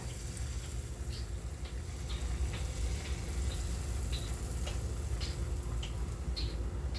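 Gluten-free tortilla batter cooks in a pan with a soft, steady sizzling hiss, dotted with faint scattered crackles and ticks, low and constant throughout.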